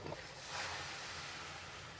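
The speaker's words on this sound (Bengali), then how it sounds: "এবার দিয়ে দেবো গরম জল" Hot water poured into a pan of potato curry, making a steady, rushing, splashy hiss that fills two seconds, close and even in volume with no voices.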